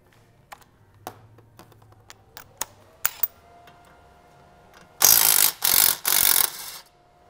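A ratchet clicks in short scattered bursts, then gives several louder, longer spins while removing the brake caliper bolts on a Mini, heard close up in a quiet workshop.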